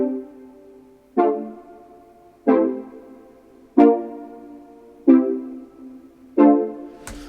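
Juno 6 emulation synth keys with chorus play five evenly spaced chords, each a bright attack that decays slowly before the next.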